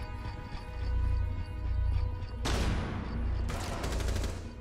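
Gunfire in Rainbow Six Siege, two sharp loud bursts of shots over a low rumbling background, the second burst sustained for about a second.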